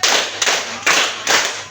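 Group hand clapping in a junior high school setting: four sharp, loud claps at an even spaced rhythm, each with a short decaying tail, no voices.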